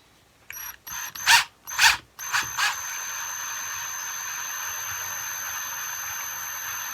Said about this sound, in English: So we get our little cordless parkside drill with our slightly oversized drill bit